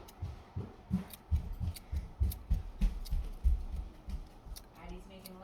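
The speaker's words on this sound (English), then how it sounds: "I'm gonna cut up fresh chive on top of that" Scissors snip fresh chives over a bowl of ramen in a home kitchen, a series of short, crisp cuts in an uneven rhythm, close and fairly quiet, with a voice talking faintly in between.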